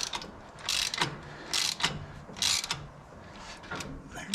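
A 19mm wrench and socket ratchet on a Jeep Wrangler JL, with several quick bursts of dry clicking separated by short pauses, close and fairly faint.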